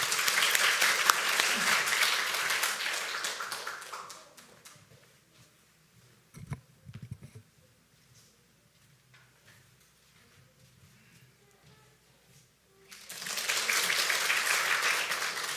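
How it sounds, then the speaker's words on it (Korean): A church congregation applauds to welcome a deaconess to the front, a full round of clapping that fades out, followed by quiet shuffling and a few soft knocks, then a fresh swell of applause near the end. "박수로 모시겠습니다"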